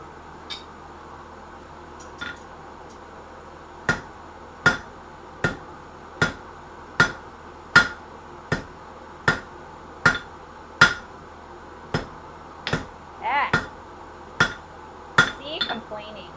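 Blacksmith's hammer striking hot metal while forging nails, a steady series of sharp ringing blows spaced about a second apart, close and clear over a low background hum.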